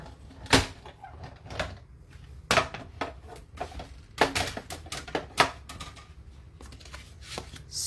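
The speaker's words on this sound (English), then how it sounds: "So we'll run that through the cut and emboss machine here." A die cut and emboss machine running card stock through, giving a series of irregular clicks, clacks and cranking thumps at close range with quiet gaps between, no talk.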